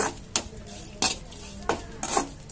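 Dry drumstick leaves scrape and rustle while dry-roasting in a pan, stirred in a few sharp, regular strokes under a steady faint hiss.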